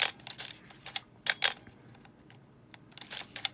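Shutter of a Minolta XG film camera firing repeatedly at different manual shutter speeds, a series of close, crisp mechanical clicks in irregular groups with quiet gaps between them.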